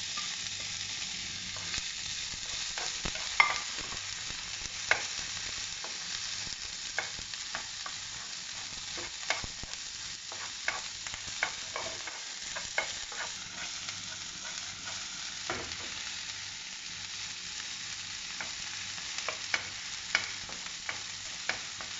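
Capsicum stirred and sautéed in a pan for white sauce pasta, a continuous moderate sizzle broken by frequent irregular spatula scrapes and taps against the pan.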